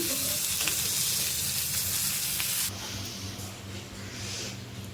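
Stuffed green chillies fry in ghee in a pan, giving a loud, close, continuous sizzle that eases slightly partway through, with no talk over it.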